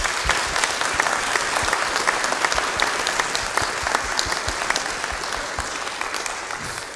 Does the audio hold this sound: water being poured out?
no